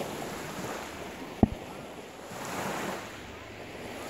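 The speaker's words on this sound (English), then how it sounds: "like the waves in the background" Ocean surf rolling onto a beach, a steady broad wash of waves with wind buffeting the microphone and one brief sharp knock partway through, no talking.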